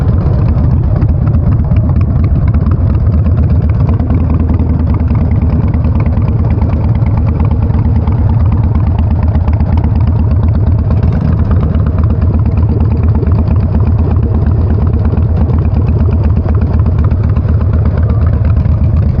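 A Harley-Davidson Sportster Nightster's exhaust rumbles at a steady, loud, close idle with a low, continuous throb for the full duration.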